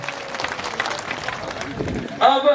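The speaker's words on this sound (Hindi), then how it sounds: "एक बार जोरदार तालियों से।" Crowd applause at a Bhil tribal Rana Punja Jayanti event in Panarwa, Udaipur, breaking out loudly near the end after a stretch of speech and crowd noise.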